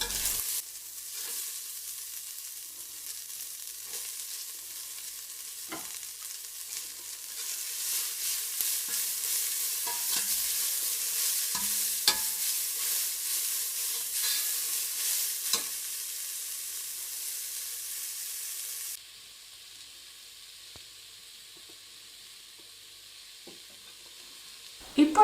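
Carrots and beans are stir-fried in a pan while a steady, faint sizzle hisses throughout. Occasional light scrapes and taps of stirring break in, and the sizzle drops quieter near the end.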